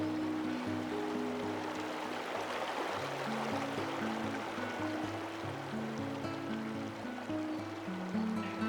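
A river flows with a continuous, broad rushing wash of water, steady throughout, while soft sustained music tones play beneath it.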